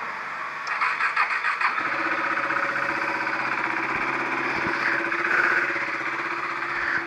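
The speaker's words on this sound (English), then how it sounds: "So let's start the bike." A KTM RC390 motorcycle engine, unused for about two weeks, cranks briefly with a rapid rhythmic starter whir, then catches and settles into a steady, close, loud idle that holds to the end.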